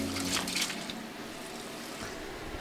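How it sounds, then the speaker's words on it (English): Water poured into a thickened cornstarch sauce for General Tso's chicken in a wok, a brief close splash and liquid squish over steady kitchen noise, with no talking. "so I'm adding a little bit more water here."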